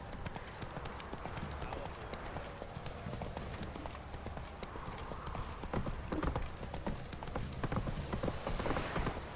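Horse hooves clip-clop steadily in The Witcher video game, a brisk, continuous trotting rhythm at moderate volume with a faint voice murmuring underneath.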